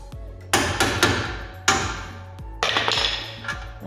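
Sharp metallic hammer blows strike a suspension part on a Volvo XC40 to knock it loose, about five ringing impacts in an irregular rhythm, close and loud with clanging decay.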